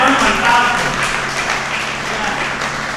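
An audience at an outdoor national poetry gathering claps in a dense, continuous burst of applause that swells briefly and then holds, with a voice talking over it.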